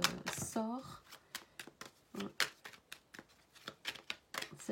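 Tarot cards being shuffled close up, a quick run of crisp riffling and slapping bursts in uneven rhythm, with a brief bit of talking near the start.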